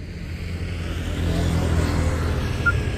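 A car rolls slowly toward a parked Tata Tiago XT, its engine a low, steady hum that grows gradually louder and closer without revving.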